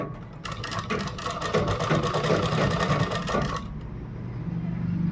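A sewing machine runs in a steady, rapid stitching burst for about three seconds while sewing a kurta made from a dupatta, then stops, leaving quiet room tone.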